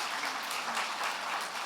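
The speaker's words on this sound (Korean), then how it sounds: "우리 큰 박수로 함께 축복하겠습니다" Brief burst of steady applause from a church congregation welcoming a newly registered member during a Sunday worship service, a dense even wash of many hands clapping with no voices.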